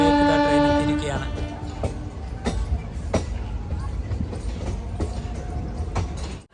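An InterCity Express train pulls into a station, its horn sounding briefly at the start before giving way to steady rumbling, clattering rail noise and a few sharp clanks, moderately loud and continuous.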